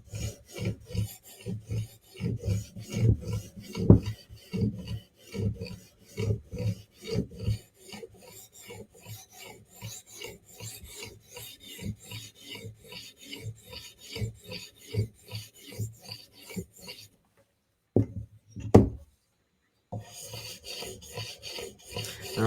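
A Spyderco knife blade rasps rhythmically along a Hapstone RS sharpening rod, each stroke a distinct scraping pass, close and moderately quiet, with a brief pause near the end before more strokes.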